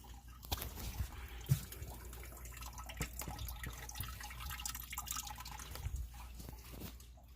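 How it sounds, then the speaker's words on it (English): Coolant draining from a car radiator runs through a hose into a bucket, making a steady trickling and dripping wash with a few sharper splashes throughout, fairly close and with no talking. "So now I'm just waiting for the radiator to drain."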